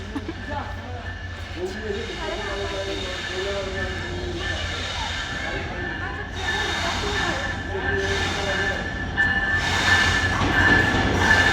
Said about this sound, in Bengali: ট্রেন যে ঢুকছে